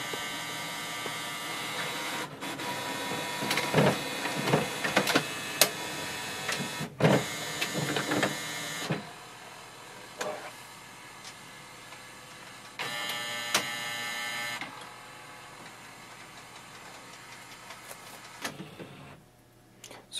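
An HP OfficeJet Pro 9014 printer whirs and clatters as it scans documents, motor runs stopping and starting with mechanical clicks and pauses, fairly close.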